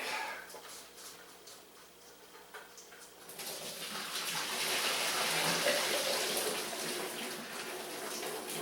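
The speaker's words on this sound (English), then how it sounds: "I'm just going to pour it down the sink." Hot potato cooking water is poured from an offset-lid pot down a kitchen sink. A quiet start gives way to a steady, fairly loud rushing gush that runs for several seconds.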